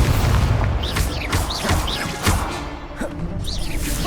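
Spell explosions from the Confringo blasting spell in the Hogwarts Legacy video game: a run of booming blasts and crackling bursts over dense combat noise, loud and close, with several impacts spread through the stretch.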